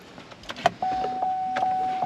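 Door-open warning chime in a 2009 Chevrolet Silverado LTZ 4x4 3500 pickup: a steady, clear electronic tone sounds inside the cab with faint pulses, after a few light clicks and rustles.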